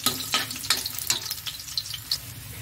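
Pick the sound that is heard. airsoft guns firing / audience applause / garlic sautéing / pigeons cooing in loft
garlic sautéing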